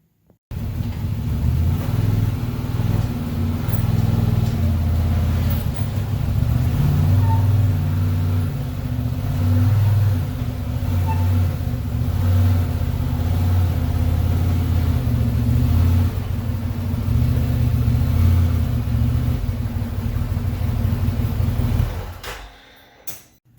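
A 2019 Can-Am Maverick Sport XRC side-by-side engine runs steadily as the machine is driven, a loud continuous low rumble with slight throttle swells before it cuts off near the end.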